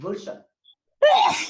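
A person sneezes once, sharply and close, during a Reiki class session; a voice speaks briefly just before, followed by a short pause.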